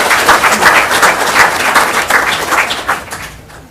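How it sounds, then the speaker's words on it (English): Audience at a borough council meeting clapping for an award recipient, loud, close, dense applause from a modest crowd, steady before tapering off at the end. "A round of applause."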